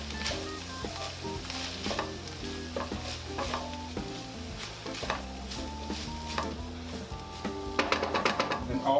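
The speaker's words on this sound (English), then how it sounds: "Stir all this goodness up." Shepherd's pie filling with minced garlic sizzles and fries in a pan while a spoon stirs it in rhythmic scraping strokes, the clatter growing busier near the end.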